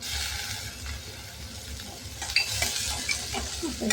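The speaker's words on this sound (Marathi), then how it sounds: "छान परतून घ्यायचं." Chopped vegetables and tomato stirred and sautéed in hot ghee for upma, a continuous close sizzle and frying hiss with spoon scrapes and stirring clatter throughout, no voices.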